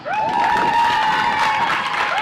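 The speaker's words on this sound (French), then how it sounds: "On applaudit Makoso Nia." Crowd applause and cheering at a school award ceremony, loud and continuous, with music or a sustained tone running underneath the clapping.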